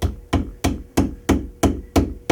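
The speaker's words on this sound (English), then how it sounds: "just bang it in with a hammer." A hammer bangs together a wooden silkscreen frame, seven sharp evenly spaced knocks about a third of a second apart, loud and close with no voices.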